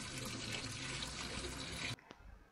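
Water runs steadily and loudly from a tap while raw chicken is washed in a sink, a dense continuous splash that cuts off abruptly near the end, leaving a faint drip and quiet room tone.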